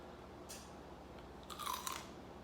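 Crispy garlic rosemary roasted potatoes crunch as someone bites and chews them, two close, crisp bursts of crunching, the second longer, over quiet background.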